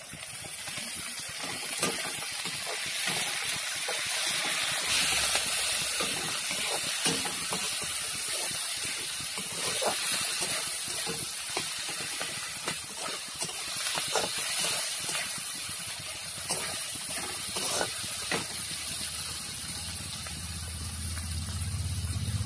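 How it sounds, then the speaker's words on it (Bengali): Chopped tomatoes added to onions frying in a pan for a soybean curry, giving a continuous hissing sizzle with scattered crackles and pops, close and fairly steady, with no talk. "কেটে রাখা টমেটোগুলো দিয়ে দেব।"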